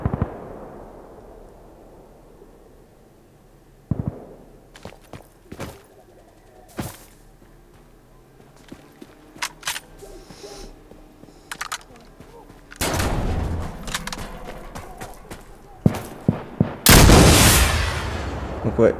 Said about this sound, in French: Donc ouais, là je meurs du mortier